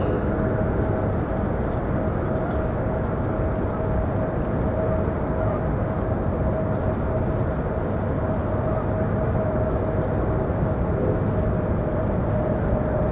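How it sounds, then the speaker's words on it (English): A small Air Force One, a C-32 jet, taking off from Madison Airport, a steady broad jet roar holding evenly throughout with a sustained tonal whine above it, distant and continuous. "Got the small Air Force One today, the C-32."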